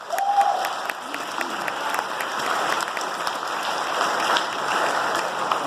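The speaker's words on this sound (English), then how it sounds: "So let's give them a round of applause." An audience at a high school fall sports awards night gives a sustained round of applause, an even wash of clapping from a crowd indoors.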